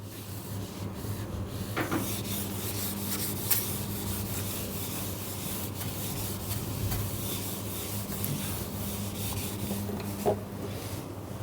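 An eraser rubs steadily across paper to remove shorthand writing, a continuous low scratchy friction lasting several seconds with a couple of sharper taps.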